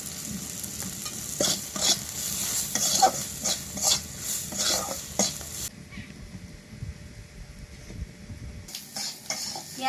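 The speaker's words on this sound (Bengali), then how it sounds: "রসুন কিন্তু মধ্যে হালকা হালকা ভাজা ভাজা হয়ে গেছে" Garlic, onion and spices fry in a pan while being stirred, giving a close sizzle with rhythmic scraping strokes for about five seconds before the sound drops away to near quiet.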